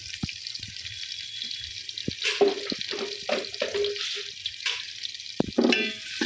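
Onions and a bay leaf frying in hot oil for a Bengali coconut-milk dish, a steady close hiss with bursts of sputtering and a few clinks of a utensil against the pan.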